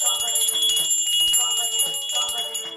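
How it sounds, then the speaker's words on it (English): A small lady-shaped hand bell jingles in repeated quick shakes, bright metallic ringing with sustained high overtones, fairly close and continuous throughout. "let me see you ring a little bell shaped like a lady"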